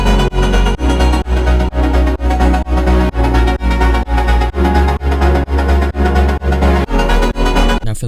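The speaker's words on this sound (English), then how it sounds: "I also added this additional vocal sample from Splice that I also LFO'd, which sounds like this." Splice vocal sample processed with LFO, distortion and sidechain in a stutter house track, pulsing in rapid rhythmic chops with a loud, dense sound and no talking.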